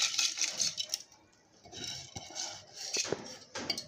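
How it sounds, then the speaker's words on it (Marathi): Washed whole masoor lentils go into a pressure cooker with a scattering of light clinks and rattles of grains against the metal pot, intermittent and close, without talk. "मसूर मी धुवून घेतलेलं आहे आता त्याला मी कुकरमध्ये टाकते"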